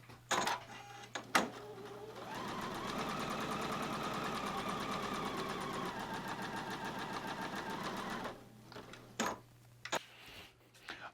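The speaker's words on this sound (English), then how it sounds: "I'm going to go ahead and I'm going to sew in just like we did a moment ago." A sewing machine stitches patchwork pieces of white cotton fabric in a steady, rapid mechanical whir that runs for several seconds. A few sharp clicks from handling the fabric come before and after the run, and there is no talking.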